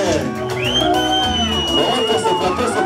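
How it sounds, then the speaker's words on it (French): Wedding guests at a customary ceremony cheering and whooping, with high shouts and ululating calls rising over a lively crowd, loud and near, mixed with chatter. "Et vous pouvez voir les acclamations."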